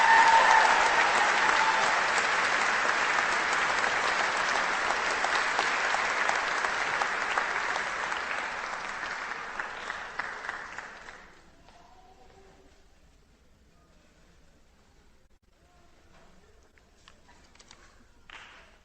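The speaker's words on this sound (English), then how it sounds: "So please give him another round of applause." A law school commencement audience gives a long round of applause, loud and dense for about eleven seconds before dropping abruptly to a quiet room with scattered faint claps.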